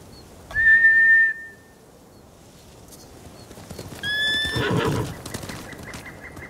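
Samurai horses in the Ghost of Tsushima video game give two shrill neighs, one early and one late, over steady hoofbeats and a low rumble of movement.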